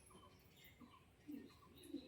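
A female pigeon gives soft low coos, a few short repeated calls close by but quiet, against a faint background.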